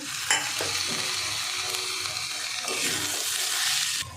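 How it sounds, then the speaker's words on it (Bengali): Gobindobhog rice and green peas sauté in a hot pan, giving a quiet, steady sizzle broken by the scrape and clink of stirring. "মটরশুঁটিটা দিয়ে 2 মিনিট একটু কষাবো।"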